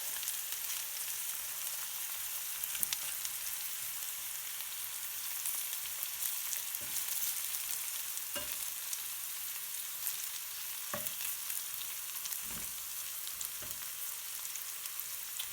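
Shallots frying in a pan over medium-high heat give a steady, fine crackling sizzle, with occasional sharper pops and spits standing out from the hiss.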